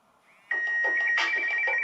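A smartphone ringtone set off by the find-phone function of a ROGBID GT smartwatch, starting abruptly after a faint lead-in and playing loud, steady and close as a bright electronic melody with no talk.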